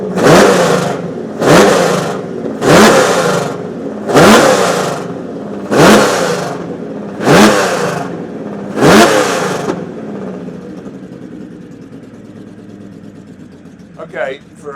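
A race-tuned V12 in the unique Jaguar XJ13 revs up seven times in a steady rhythm, loud and close, each blip dropping back before the engine settles to a quieter idle; a voice can be heard alongside.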